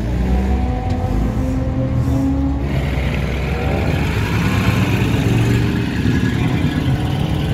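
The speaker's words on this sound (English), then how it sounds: "And yes, they are all going out for a lap." Classic oldtimer cars, including 1800S models, heading out for a lap, their engines rumbling and revving loudly and steadily nearby with no break in the drone.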